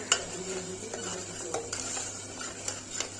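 Keema masala gravy frying in oil in a pot, a soft continuous sizzle with intermittent scraping and metal clinks from stirring, fairly quiet and close, no talk.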